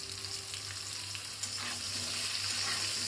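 Potatoes frying in hot oil in a pan for a fish curry, a steady dense sizzle that holds continuously throughout at close range, with no voices over it.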